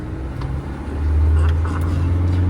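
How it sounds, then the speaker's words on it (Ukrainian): A van's engine revs hard as it pulls away in first gear at full throttle, a close, loud low drone that rises in strength after the first second and holds steady. "Так, перша передача, газ до бляхи і погнали."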